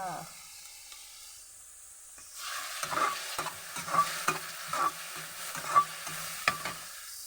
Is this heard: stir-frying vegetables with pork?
yes